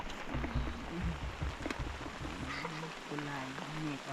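Rain falls steadily on a rural upland rice farm in the morning, a soft continuous patter beneath people talking nearby, with scattered knocks and small sounds of activity.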